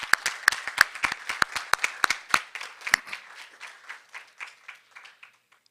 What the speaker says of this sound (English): we ought to give them another round of applause